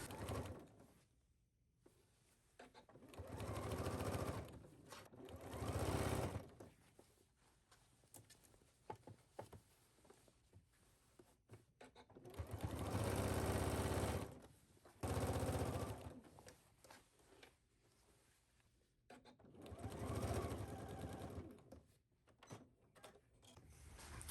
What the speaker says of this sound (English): we are going to understitch the lining piece.